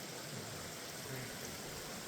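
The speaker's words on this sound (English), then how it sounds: "Keeps coming and going, the rain." Rain falls steadily on a tarp at a wild camp in the Shropshire Hills, giving a faint, even hiss with no distinct drops and no voices.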